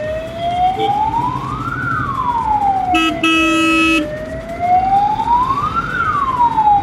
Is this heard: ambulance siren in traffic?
yes